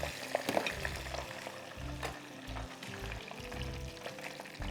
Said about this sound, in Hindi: मैं झटपट इसको सब कुछ डिप करती जाऊँ और फ्राई करती जाऊँ।